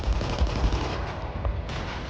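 Rapid gunfire and artillery in a war documentary about the Indochina War, a dense, continuous rattle of shots with heavy low booms, loud and close, without any voice over it.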